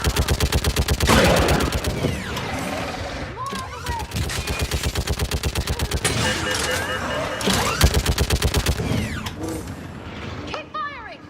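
Loud, rapid automatic gunfire hammers steadily through a Mass Effect 3 battle, with short pauses, mechanical clatter and occasional whooshing effects between bursts.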